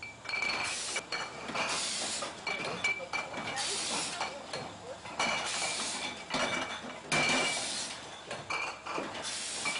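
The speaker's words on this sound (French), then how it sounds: "La mise en bouteille est donc automatisée, garantissant une régularité de remplissage et de bouchage." An automated bottling line fills and corks Bugey Brut sparkling wine bottles, keeping up a continuous mechanical clatter with hissing bursts. Glass clinks often against the rumbling machinery.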